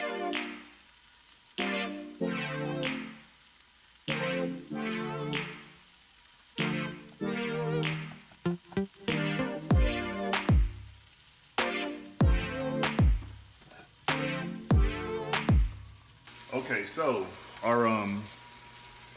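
Turkey burgers sizzle and fry in a pan, a steady crackling hiss broken by repeated clanks and scrapes of a utensil, with a louder stretch of rhythmic knocking near the end.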